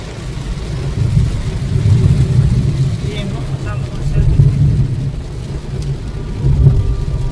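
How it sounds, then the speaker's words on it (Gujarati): Heavy monsoon rain drums on a car driving on a highway near Ahmedabad, with a steady low road rumble that swells as vehicles pass and voices speaking over it. "તમે જુઓ અહીંયા વરસાદ કેટલો ફૂલ છે"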